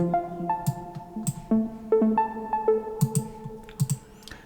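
An arpeggiated synth lead from Logic's built-in arpeggiator in electronic music, with short plucky notes stepping up and down in a quick repeating pattern, soft and alone.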